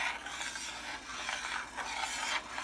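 Milk for atole de elote is whisked in a pot, giving soft, continuous scraping and swishing strokes in a steady rhythm, quiet and close with no talking.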